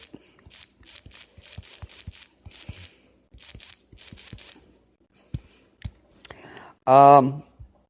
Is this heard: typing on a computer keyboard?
yes